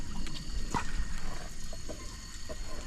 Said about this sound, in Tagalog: Yan laki ng dito po ng tubig oh.